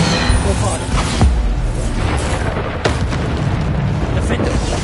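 Loud Bombarda explosion spell in the Hogwarts Legacy video game, sharp booming bursts recurring over a dense continuous roar of combat noise, with a voice shouting spell names alongside.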